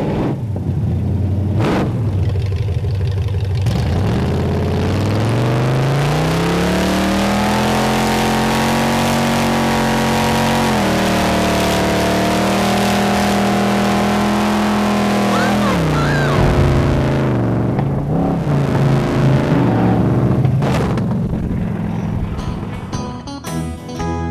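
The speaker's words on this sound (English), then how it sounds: "ride in a proper dragster." A dragster's engine revs hard and accelerates, its loud pitch climbing, holding and sweeping in continuous roaring waves for the whole stretch.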